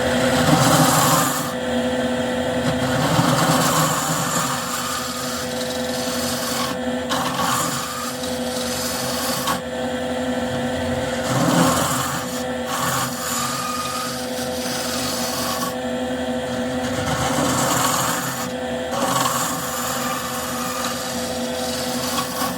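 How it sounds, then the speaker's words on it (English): A spindle gouge thins a wooden bowl on a spinning lathe, giving a steady rasping, scraping hiss over the constant hum of the machine, close and continuous with no talk. "So we'll keep doing that with the spindle gouge."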